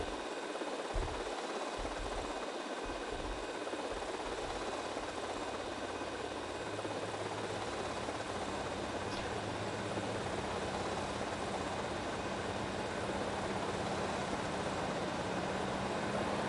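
An RC chopper in the video game GTA Vice City gives a constant, dense buzzing engine whine that runs steadily for the whole stretch, loud and unbroken, with no talking over it.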